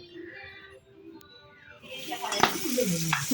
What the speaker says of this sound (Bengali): তো এই যে মাছগুলো ভেজে নিচ্ছে।